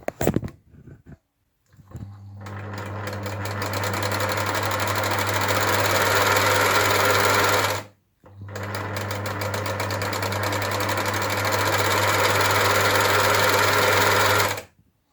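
A Tula sewing machine on its original electric motor whirs at a steady, loud pace, stops briefly, then starts again and keeps running before cutting off.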